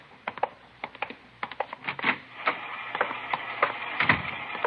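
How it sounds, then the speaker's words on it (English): An IBM punch card machine processing cards in a radio drama, a rapid irregular clatter of mechanical clicks and taps, fairly close and steady, with no talking over it. "She's running all the cards on previous shooting through the IBM machine"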